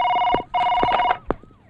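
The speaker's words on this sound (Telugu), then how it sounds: "సార్, మీకు ఫోన్." A telephone rings in a Telugu film scene: two bright, close bursts of ringing are separated by a short gap, then a voice speaks briefly as the ring fades.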